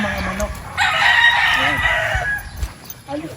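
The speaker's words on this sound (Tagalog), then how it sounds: "Napintahan natin sir yung mga manok." A rooster crows once, long and drawn out, nearby among other chicken noises on a farm, with faint talking in the background.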